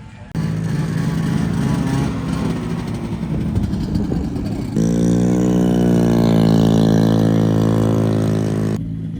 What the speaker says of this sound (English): that's like the typical sound of a Wankel engine